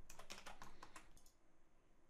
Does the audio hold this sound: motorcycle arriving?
no